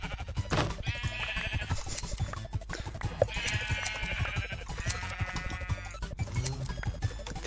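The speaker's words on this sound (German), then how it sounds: "Dann eigentlich das rosa Schaf hier hingestellt." Pink sheep in Minecraft bleating, with several drawn-out, wavering bleats rising over a busy, continuous game background of clicks and ambient sound.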